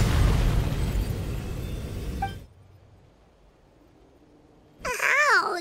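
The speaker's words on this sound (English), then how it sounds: "You were all caught in the shockwave of the explosion." A loud, deep blast of a stone being destroyed in the game Genshin Impact rumbles for about two seconds, then cuts to near silence before a swirling, warbling magical effect bursts in.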